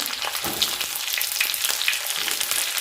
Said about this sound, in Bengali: আর দেখো এরপরে কেটে রাখা পেঁয়াজগুলো দিয়ে দিলাম।